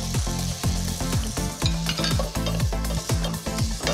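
Onions cook in a pot for sour fish soup, a close sizzle under a regular series of stirring strokes and scrapes, about two per second.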